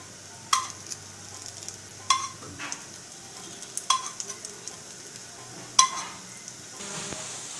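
Beet and potato cutlets fry in a little oil in a frying pan with a soft, steady sizzle, broken by several sharp clinks and scrapes of a utensil. The sounds are fairly quiet and close, with no talking.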